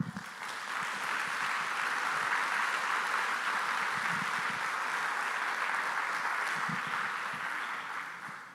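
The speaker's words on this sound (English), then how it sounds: "And we can give them a round of applause." Audience at a research conference opening session applauding, a dense, sustained round of clapping from a large room that swells quickly and holds steady before tapering at the end.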